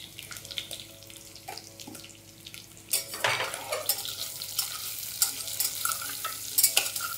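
Onion pieces fry in oil for paneer biryani, a steady broadband sizzle that swells louder from about three seconds as stirring and pan clatter join in.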